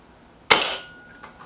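A single sharp crack from a Kral Pro 500 air rifle, sudden and loud, with a brief decaying ring and a faint tap a moment later.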